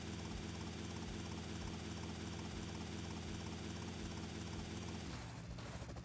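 A helicopter in GTA Vice City Definitive Edition drones with steady rotor chop, loud and even throughout, with the engine tone shifting near the end.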